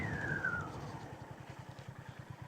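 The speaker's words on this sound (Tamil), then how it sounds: "நான் அப்படியே பிரேக் அடிக்கிறேன்ப்பா உங்களுக்கு." A Honda CB350 RS motorcycle braking, a short high brake squeal fading early, then a quiet, evenly pulsing engine idle thumping close by.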